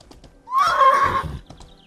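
Close and clear, a single drawn-out whinny rises and wavers from a horse in the game Mortal Online, framed by faint clopping hooves before and after.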